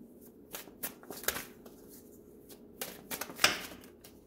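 Tarot cards being handled and shuffled up close, a run of soft, papery riffles and taps in irregular bursts with a sharper snap near the end, quiet overall with no talking.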